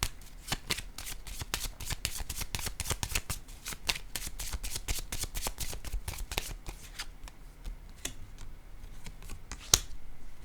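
Tarot cards shuffled in a long run of rapid, crisp riffling flutters, with a few cards laid down near the end; close and steady, no talking.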